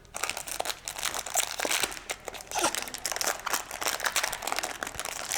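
A 1992 O-Pee-Chee Premier hockey card pack wrapper is torn open, giving a steady, close run of crisp foil crinkling and crackling with no talking.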